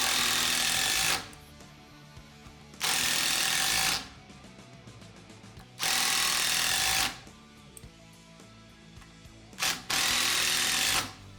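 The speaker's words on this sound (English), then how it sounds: "let's start out with some screws. Number 6, 2-inch. These are a Phillips drive, general purpose screws." A DeWalt 1/4-inch impact driver sinks 2-inch No. 6 Phillips screws into treated 4x4 lumber in four loud, close bursts of rapid hammering, each lasting roughly a second, with short quiet gaps between them.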